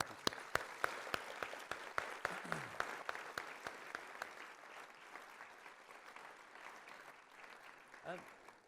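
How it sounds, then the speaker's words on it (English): A conference audience at an Earth Optimism session gives a round of applause for the speakers: faint, scattered clapping with distinct individual claps, thinning out toward the end. "if we could just give them a round of applause"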